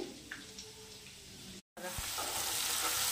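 An onion, coriander and green chili puree sizzles as it hits hot oil with browned garlic, a close, steady frying hiss broken by a brief gap, then a louder, fuller sizzle with stirring.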